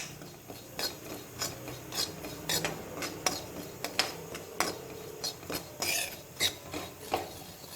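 Flattened rice roasting in ghee in a pan, stirred with a spatula in a rhythm of dry scraping and rasping strokes, close and moderately quiet.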